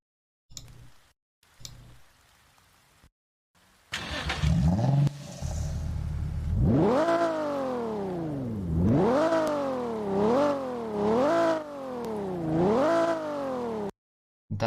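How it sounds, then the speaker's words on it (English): A Nissan 370Z in a Roblox driving game starts up with a clicky crank, then the engine catches and revs repeatedly, rising and falling in several loud throttle blips before cutting off. "we have a startup sound of the 370Z"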